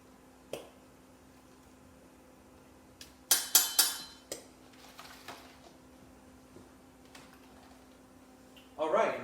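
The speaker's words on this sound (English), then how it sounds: "I'm just going to take some tongs, some tweezers, and just kind of mix this all up together" Metal tongs stir snow crab and shrimp in a pot for a boil, giving a few clustered clinks and scrapes in the middle, close and moderately loud, with sparse quiet handling noises around them.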